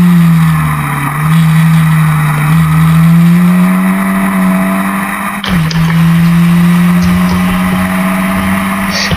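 Historic Formula Ford race cars run at Brands Hatch in a 2014 round. A loud, close engine drone holds a steady pitch with slight rises and a brief dip midway, continuous throughout.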